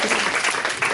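Audience applause at an improv comedy show, a dense steady wash of many hands clapping close by, filling the whole moment without speech.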